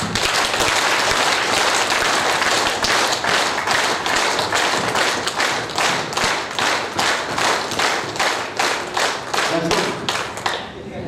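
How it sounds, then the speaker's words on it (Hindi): Audience clapping in unison at a community event hall, a long run of sharp, evenly spaced claps in rhythmic bursts with some background crowd noise, loud and continuous. "तालियां बजाई जाए, 5 तालियां"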